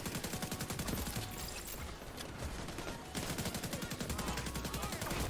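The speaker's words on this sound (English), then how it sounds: "Fireworks!" Rapid, evenly spaced automatic gunfire bursts that pop like fireworks during a firefight in The Division 2, sustained and dense with a short lull midway, fairly quiet overall and without speech.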